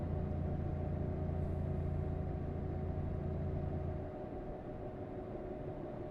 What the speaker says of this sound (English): That's an annoying sound this truck makes.